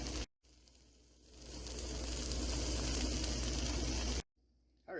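A grilled cheese sandwich sizzling in a pan on the stove after being flipped, a steady close hiss of toasting bread that builds and holds, broken off by short gaps at the start and end.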